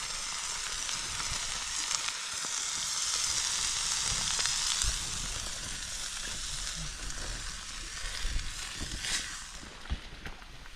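Flour mixed with garlic powder, thyme, rosemary and black pepper sizzles steadily in a small pan on a Trangia camping stove at a wild camp, a continuous bright frying hiss with occasional faint pops and stirring clicks, no talking.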